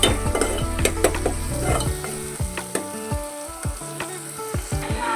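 Onions frying in a pan for a ridge gourd curry, a bright continuous sizzle with frequent clattering scrapes and stirs of a spoon against the pan, close and fairly loud.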